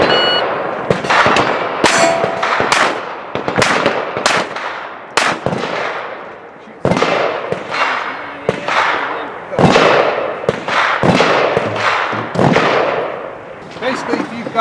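Pistol shots ring off steel targets at a steel challenge match, a fast irregular string of sharp cracks each followed by a metallic clang, loud and close, with occasional voices between shots.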